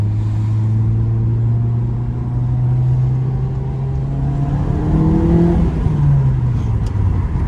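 A VW Golf 7 GTI accelerates hard from inside the car, its engine note climbing loudly through the gears with rising, sweeping pitch and a brief dip at each shift.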